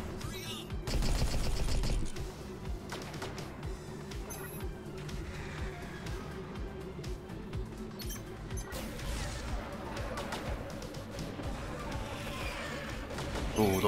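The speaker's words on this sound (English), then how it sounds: "Ooh, those are shotgun" Enemy mech shotgun fire in a mech combat video game: scattered blasts and crashes over a constant low mechanical hum, one heavier burst early on, fairly faint overall.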